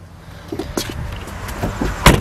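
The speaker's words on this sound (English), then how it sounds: "this Chevy Camaro has a sunroof" Sunroof on a 2010 Chevrolet Camaro SS sliding open, a short mechanical whir with light clicks and knocks, ending in a sharper thud, heard close inside the car.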